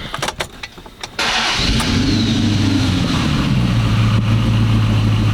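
A flood-damaged, rusty Dodge Charger Daytona R/T engine cranks with a brief stuttering starter whir, then catches and settles into a loud, steady idle nearby.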